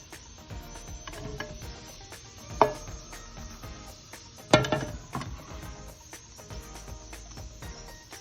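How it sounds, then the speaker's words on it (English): Cumin seeds crackling in hot oil in a non-stick pan, a faint continuous sizzle with scattered small pops and two sharper snaps, no voices. "Now to that I will be adding the cumin seeds and let it splutter."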